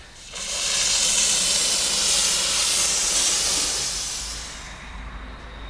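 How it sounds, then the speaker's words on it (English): A steam cleaner hisses loudly and steadily for about four seconds inside a car interior being cleaned, then fades out as the steam is shut off. "I'm gonna turn down the steam a little bit."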